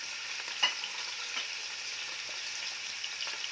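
Sausage frying in a pan and being turned over and over, a steady moderate sizzle with soft scrapes and one brief knock of the utensil, close by and without speech.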